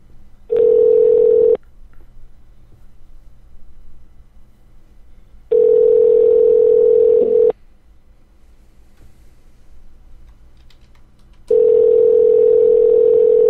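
A telephone line rings out while a call is placed to a guest on a live late-night radio show, three long steady tones about a second or two each, separated by longer pauses of quiet line hiss, loud and clear.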